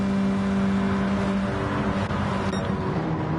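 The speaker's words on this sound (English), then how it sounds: "BSF is up to 3rd now, having passed Liam, who really needs to get rid of those wet tyres." Race cars lap a track in Gran Turismo 7 during an online charity race series, a steady droning engine whine holding a constant pitch with a faint shift midway.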